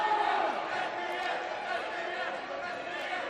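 A wrestling crowd in Hazleton roars and chatters steadily throughout, a dense, continuous wash of many voices shouting at once.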